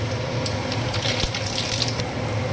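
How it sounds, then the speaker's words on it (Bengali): Cumin seeds hit hot oil for a tempering over a taro and coconut vegetable dish, giving a steady bright sizzling hiss with faint crackles and no talk. "তেল গরম হয়ে গেছে, সবজিতে একবার তড়কা লাগিয়ে দেব। তেলের উপরে দিলাম জিরা"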